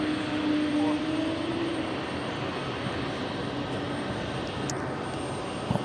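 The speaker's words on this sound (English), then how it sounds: "We'll be seeing this 747-400 much longer with Lufthansa." Engines of a Lufthansa Boeing 747-400 roar at JFK airport, a steady broad jet rumble with a faint tonal whine, while a voice talks over it.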